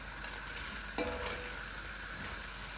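Tomato drops into roasted gram flour in a pan, bringing a short burst of louder sizzling over a steady low frying hiss with faint stirring.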